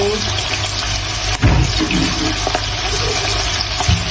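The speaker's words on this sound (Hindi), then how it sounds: "अब इसमें डाल देंगे 250 ml मिल्क डाल देंगे हम इसमें" A steady, loud rushing stream of 250 ml of milk pours into a pan for Alfredo pasta, with a brief clunk partway through and no talking.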